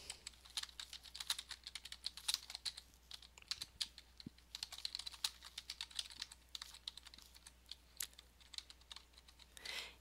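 Quick, light clicking of fingers typing on a computer keyboard, a continuous irregular patter of keystrokes, close but quiet.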